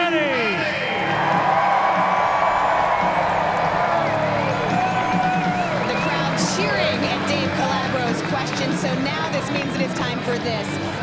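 A huge race-day crowd at the 2015 Indianapolis 500 roars and whoops as the starting field is presented, a loud, sustained wash of cheering that fills the whole stretch without letup.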